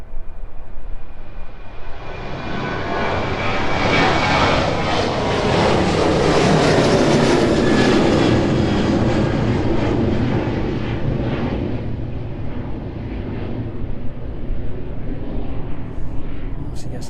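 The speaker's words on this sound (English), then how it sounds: "the departing 737-800, this one 16 years of age" A 16-year-old Boeing 737-800 departs from East Midlands Airport with a loud jet-engine roar that swells over several seconds and then slowly fades as it climbs away.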